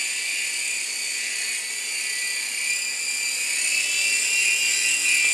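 A small toy helicopter rotor, an Air Hogs model, whirs with a steady, high-pitched buzzing whine that holds evenly throughout, close by and fairly loud.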